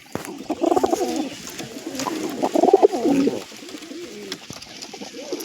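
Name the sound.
pigeons cooing at their nest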